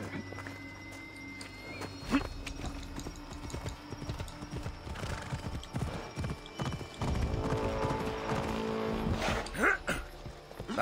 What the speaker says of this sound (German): Komm her, Pferdchen.